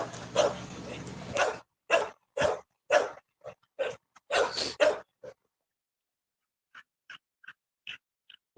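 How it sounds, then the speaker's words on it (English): A dog barks in a quick run of sharp, close, loud barks, then gives a scattered series of fainter, higher yips after a short pause. "Man, he is a beautiful dog."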